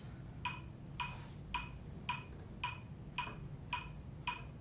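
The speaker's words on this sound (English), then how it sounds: "So I'm going to put the metronome on" A metronome ticks alone at a steady tempo, about nine evenly spaced sharp clicks, faint and quiet against a low background hum.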